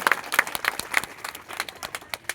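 An audience claps in scattered, uneven bursts, with sharp hand claps close and distinct rather than a dense roar, fading toward the end.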